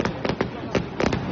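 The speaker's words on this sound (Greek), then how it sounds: "Χιλιάδες πυροτεχνήματα έκαναν τη νύχτα μέρα στη Θεσσαλονίκη." New Year's Eve fireworks launched from a boat on the Thermaic Gulf over Thessaloniki crackle and pop in a rapid cluster of sharp bursts, loud and layered with no pause between them.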